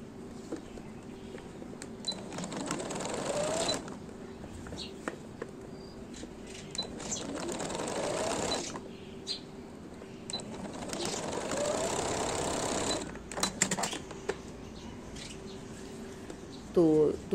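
A sewing machine stitches the sleeves of a newborn baby's shirt in several runs of steady whirring, pausing between seams, with brief handling clicks close by.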